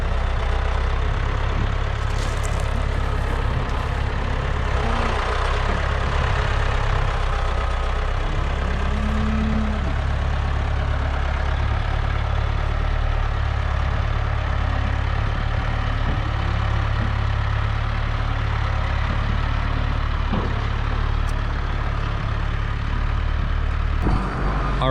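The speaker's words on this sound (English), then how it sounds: "Seth just started the tractor up to take it off" A tractor carrying a front bucket idles steadily just after start-up beside a trailer, a continuous low, heavy diesel rumble that stays fairly even and close for the whole stretch, with faint mechanical noises over it and no talking.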